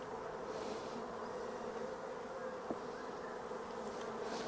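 Honeybees buzz in a dense, steady drone close by during a spring hive inspection, a continuous hum with no voices, one brief tap cutting through.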